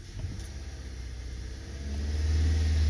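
A Honda Accord engine with a misfire code idling at close range, then rising as the throttle is opened, its low rumble swelling into a louder steady rev.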